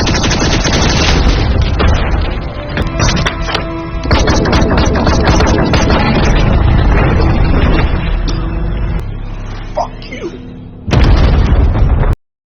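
A film battle erupts with an advanced rifle and human weapons firing nonstop: loud, dense volleys of shots and blasts pile up continuously, briefly thin out, then surge again before cutting off abruptly.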